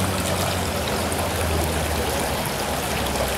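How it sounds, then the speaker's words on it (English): Garden fountains on display at a large greenhouse nursery give a steady, close rush of running and splashing water that stays even and continuous throughout. "These are some of the fountains that they have."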